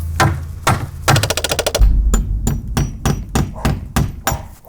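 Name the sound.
hammering nails into wood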